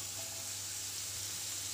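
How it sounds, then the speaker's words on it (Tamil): Chopped onion and two green chillies fry in a tablespoon of hot oil, giving a steady, close sizzle that holds even and unbroken throughout with no voices. "ஒரு மேஜை கரண்டி எண்ணெய் சூடு செஞ்சு, பொடியாக நறுக்கின ஒரு வெங்காயம், ரெண்டு பச்சை மிளகாய் சேர்த்து"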